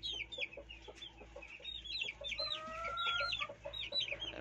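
Chickens of lemon and golden boy breeds cluck steadily and nearby, with overlapping short calls from several birds and no talking.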